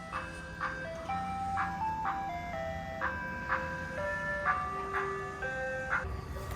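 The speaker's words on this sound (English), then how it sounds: "maybe I'll get some ice cream from the ice cream truck that's coming by" An ice cream truck's tinny melody plays as the truck passes by, repeating a chiming tune at moderate distance with faint traffic background and no talking.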